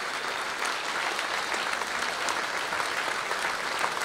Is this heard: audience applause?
yes